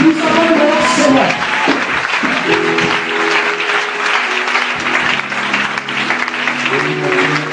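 A church congregation in Yopougon claps in loud, dense, continuous applause throughout, with a sustained musical tone ringing underneath and a few voices mixed in.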